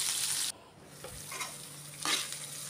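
Onions and green chillies fry in a pan with a loud sizzling hiss that drops away briefly, then returns with stirring scrapes and crackling; no voices.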